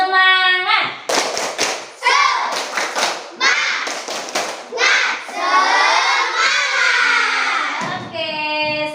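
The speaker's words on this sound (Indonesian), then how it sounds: "kita tepuk semangat supaya kita semangat dalam belajar hari ini ya anak-anak" Children in a classroom perform the tepuk semangat clapping chant, with bursts of sharp rhythmic hand claps alternating with loud chanted voices, close and lively.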